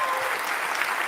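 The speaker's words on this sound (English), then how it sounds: "here the crowd just clap" Studio audience applause fills the short stretch, dense, even clapping at steady volume with no voices over it.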